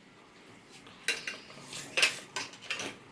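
A spoon clinks and scrapes against a metal pot in a few sharp, close strokes as mutton is stirred into masala, with near silence between the knocks.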